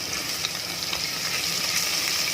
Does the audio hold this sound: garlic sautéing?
yes